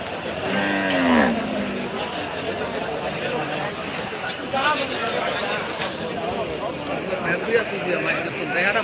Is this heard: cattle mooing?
yes